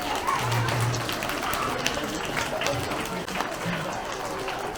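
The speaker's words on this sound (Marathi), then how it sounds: "पहिलीचे विद्यार्थी जरा जोरदार टाळ्या वाजवा ना तुम्ही" First-grade pupils at a Zilla Parishad school event clap loudly, a continuous dense patter of applause from a group, with voices over it.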